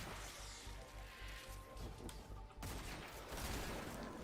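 Rapid automatic gunfire from Destiny 2 rattles in a steady rhythmic stream of shots with crunching impacts, dense and continuous throughout.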